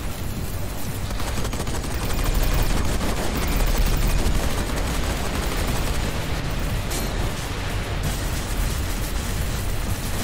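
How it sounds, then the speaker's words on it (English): Rapid volleys of spaceship missile and weapon fire in the space combat game Everspace 2, a dense continuous barrage of shots and blasts, loud and steady throughout with no voices. "Some bad missile shots, I suppose"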